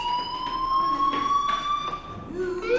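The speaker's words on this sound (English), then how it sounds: "Hey, do you hear that fire alarm?" High electronic fire alarm tone ringing steadily in the Life is Strange video game, a sustained piercing beep near the listener, with short bursts of muffled voices underneath.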